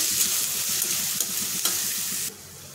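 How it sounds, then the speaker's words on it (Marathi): Onion, ginger and garlic frying in hot oil with a loud, close, crackling sizzle and rhythmic stirring scrapes, which suddenly drop to a quieter hiss near the end. "कांदा छान आपला फ्राय झालेला आहे।"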